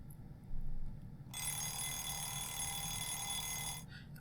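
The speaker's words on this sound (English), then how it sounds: "I had drifted off just a little bit when my alarm went off." Alarm clock from a visual novel video game ringing: a continuous bright metallic bell ring that starts abruptly, holds for a few seconds, then cuts off, alone and fairly loud.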